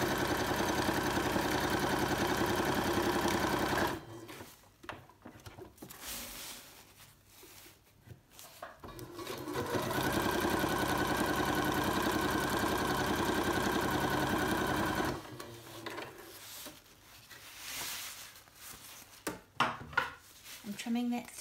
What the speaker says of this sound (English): So you're going to sew there, you're going to sew there